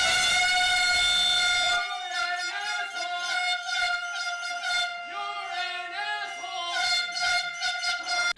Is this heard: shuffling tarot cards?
no